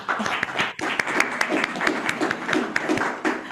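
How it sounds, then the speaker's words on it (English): An audience gives a steady round of applause, many hands clapping densely and close for a few seconds, with no voices over it. "Can I have a round of applause for her?"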